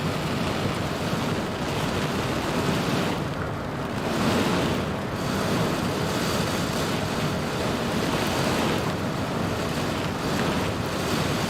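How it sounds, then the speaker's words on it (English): Steady roaring wind and rain buffet an aircraft flying into Cyclone Freddy at about 1,000 feet in Microsoft Flight Simulator, a dense unbroken rush with slight surges, loud and continuous with no talking. "So very, very windy in here."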